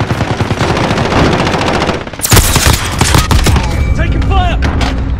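Rapid automatic gunfire in the Call of Duty: Modern Warfare video game, loud and close, sustained bursts of shots followed by sharper cracks and ricochet-like pings, with faint voice chatter beneath.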